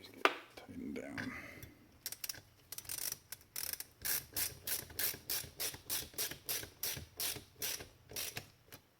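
A ratchet tightens bolts down on a Warn 9.5ti winch under restoration, close by, producing rapid, rhythmic bursts of metallic clicking strokes that repeat steadily for several seconds after some brief handling noise.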